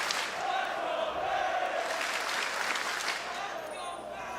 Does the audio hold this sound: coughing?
no